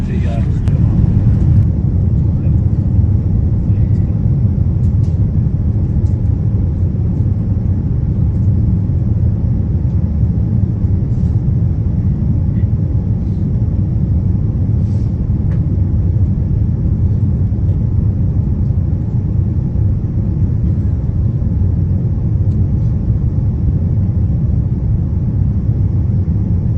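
Steady, loud low rumble and engine drone inside an airplane cabin on landing approach to London Heathrow, continuous and unchanging throughout with faint higher hiss above it.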